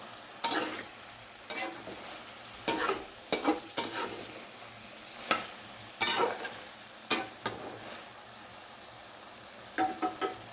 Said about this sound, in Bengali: তো এখন আমরা আস্তে আস্তে একটু গরম জল অ্যাড করে দেবো